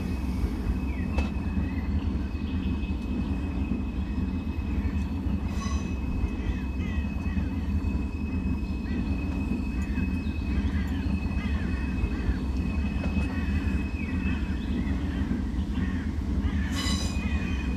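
Corris Railway No. 9 narrow-gauge locomotive running in Train Simulator 2019, a steady loud rumble of wheels and rail with recurring clicks and brief squeals throughout, no talk.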